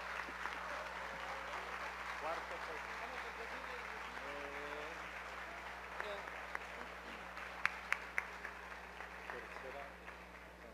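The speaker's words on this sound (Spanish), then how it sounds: "¡Aplauso! ¡Aplauso!" Audience applause at a national bolero singing contest, a dense steady clapping wash running through the clip in a hall with a constant electrical hum, a few sharp louder claps near the end and faint voices mixed in.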